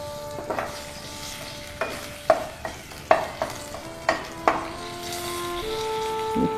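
Panch phoron spices and two bay leaves dropped into hot fish-frying oil: a quiet, steady sizzle broken by several sharp stirring clinks and taps of a spoon against the pan.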